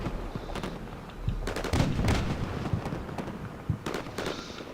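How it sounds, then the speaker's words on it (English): Artillery fire mission striking a building in the Combat Mission Shock Force war game, a series of sharp blasts and crackling impacts coming in irregular bursts at moderate distance. "My fire mission's landing on that building in the background there."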